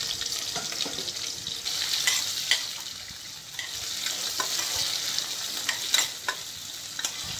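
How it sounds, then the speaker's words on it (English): Onions sautéing in a pan for rajma curry, a bright steady sizzle close by with repeated scraping taps as they are stirred, and no voices. "Sort the onions until they're light brown."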